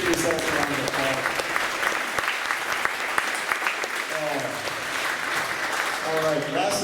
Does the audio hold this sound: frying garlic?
no